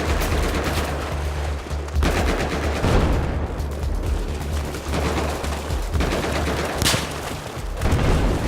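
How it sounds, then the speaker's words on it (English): Heavy cannon blasts and gunfire from a tank firing at the player in the Battlefield 4 video game, on the Tashgar mission, sounding as loud booming shots in bursts about every second or two over a dense, rumbling battle din. "The tank knows we're here, shooting at us, and that is never a good thing."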